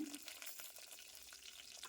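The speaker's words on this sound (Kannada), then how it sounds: "ಒಗ್ಗರಣೆ ಆಯಿತು" Dry red chillies and curry leaves crackle in hot oil for a Mangalore-style cucumber sambar tempering, a steady close sizzle with faint spitting pops running throughout, no voices.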